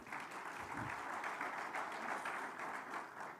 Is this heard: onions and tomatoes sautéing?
no